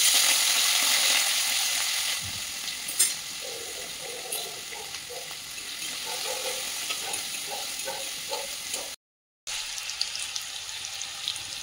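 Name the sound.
potatoes frying in a pan with panch phoron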